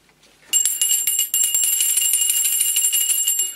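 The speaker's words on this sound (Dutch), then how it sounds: "Dus je bepaalt zelf wanneer de bel belt en niet belt." A magic-trick hand bell rings close and loud, starting after a short quiet moment and then shaking in a steady, continuous bright jangle until the end.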